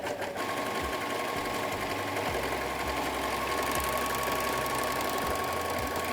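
A 4-thread overlocker runs steadily, stitching and trimming fabric with a continuous fast mechanical whir and rhythmic needle chatter, close by and without speech.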